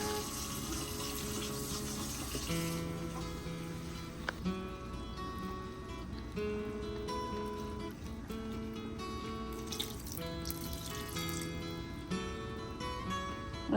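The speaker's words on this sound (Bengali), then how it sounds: "পাট শাকে 2 কাপ মতন জল দিচ্ছে এখানে" About two cups of water poured onto jute leaves sitting in a cooking pot: a continuous, fairly quiet splashing pour that runs steadily throughout with no voices.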